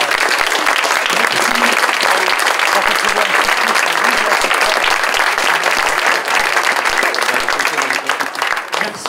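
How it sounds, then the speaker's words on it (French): Over a hundred volunteers at a concert applauding themselves, loud dense sustained clapping from a close crowd filling the whole stretch, with some voices mixed in. "je pense qu'on peut tous s'applaudir"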